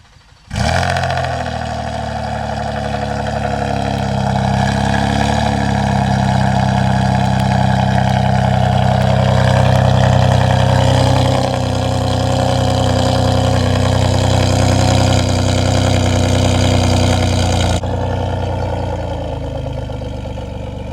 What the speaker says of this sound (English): We're gonna give her a nice cold start now